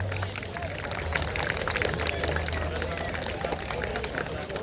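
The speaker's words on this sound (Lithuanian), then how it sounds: "Aplodismentai." A school assembly audience applauding: dense, steady clapping fills the hall at an even level throughout, with faint crowd murmur beneath.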